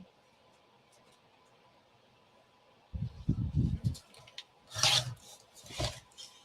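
A paper trimmer slices through paper in a few short rasping strokes, close and quiet, with brief pauses between the cuts and a faint background hum.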